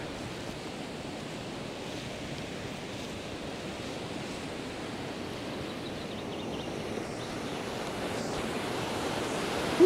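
Small waves lap steadily on the shore of the Lago di Fedaia reservoir in the mountains, a continuous even wash with a light wind over it and no voices.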